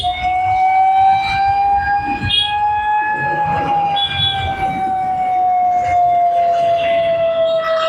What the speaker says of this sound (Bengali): জ্যামের মধ্যে অ্যাম্বুলেন্স আটকে আছে।